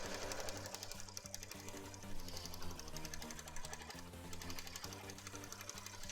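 A sewing machine stitching a cosplay skirt runs in a continuous fast mechanical whir and rattle, steady and close, heard on its own.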